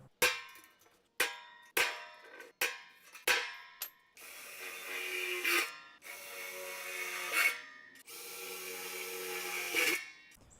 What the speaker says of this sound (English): all we're doing now is putting these bolts in through the outside